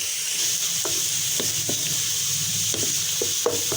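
Two medium onions fry toward light brown in a hot pan, with a steady, close sizzle broken by regular light scraping strokes of a spoon, and no voices.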